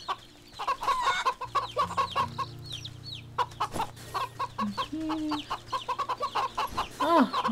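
Cartoonish chickens cluck repeatedly in the video game Wytchwood, with busy chirping calls layered over a sustained low musical drone.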